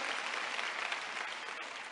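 Audience at a church sermon breaking into steady, dense applause, a continuous wash of clapping with no clear gaps, moderately loud throughout.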